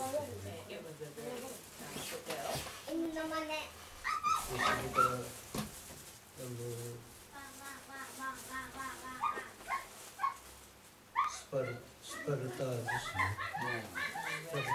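A person's voice imitates a dog, giving repeated yips, barks and whimpering whines in uneven bursts over about fifteen seconds, fairly close and clear.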